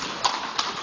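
Donkey hooves clip-clop on stone stairs on the climb to the monastery at Petra, Jordan, with two distinct footfalls under steady outdoor background noise.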